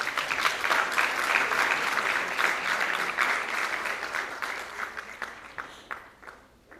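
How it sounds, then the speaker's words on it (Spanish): Conference audience applauding, dense clapping at first that thins out into scattered individual claps and fades toward the end. "Aplausos, por favor."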